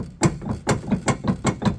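A loose hitch reducer in a trailer hitch receiver clanks and rattles in a quick, irregular rhythm, about eight sharp metal knocks in under two seconds, close and fairly loud.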